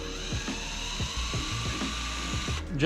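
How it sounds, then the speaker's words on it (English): An eraser wheel on a drill, spinning at very low speed, strips emblem adhesive from a car body with a steady whirring grind and regular rubbing pulses, rising briefly at the end. "we'll use the eraser wheel on a super low speed"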